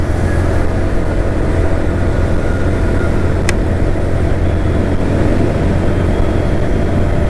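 Suzuki GS motorcycle riding down a deserted road, an even, rumbling engine hum buried in constant wind buffeting, with a single brief sharp tick midway.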